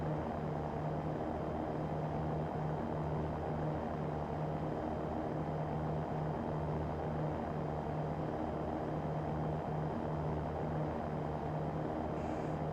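Cirrus SR20 single-engine propeller plane cruising in X-Plane 11, a loud, continuous, even engine drone with a steady low hum throughout and no breaks.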